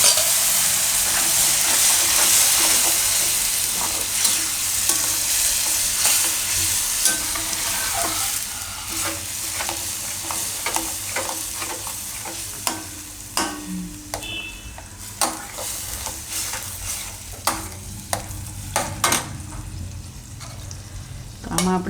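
Tomato puree frying in a pan with Kashmiri chili for a Gujarati madhpudo shaak, a steady close sizzle and hiss with scattered stirring clicks and scrapes running throughout.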